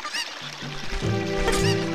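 A chicken in The Legend of Zelda: Ocarina of Time squawks and clucks, joined by honking, bird-like cries that come in quick bursts and grow louder over game music. No one speaks.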